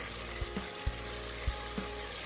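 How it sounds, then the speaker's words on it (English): Steady frying sizzle from a pot of tomato sauce for coconut jollof rice, a constant crackling hiss with a few soft low knocks scattered through it. "our sauce has been frying for some minutes."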